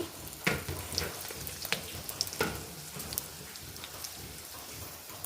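Fenugreek seeds and pepper sizzling in hot coconut oil, a soft steady crackle with scattered sharp pops and spits, close and fairly quiet.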